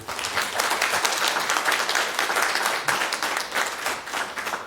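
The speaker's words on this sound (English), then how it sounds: "Look at me allowing clapping in the room" A city council meeting room fills with a burst of applause, dense and steady clapping from a crowd lasting several seconds at moderate loudness.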